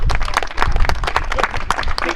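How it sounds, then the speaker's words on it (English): A small outdoor gathering at a park trail dedication claps in brief, scattered applause, with uneven hand claps close by for about two seconds. "Give them a round of applause."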